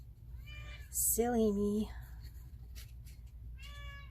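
A pet cat meows near a crafter working on a box, two drawn-out, clear meows, the second short and later, with someone talking quietly between them.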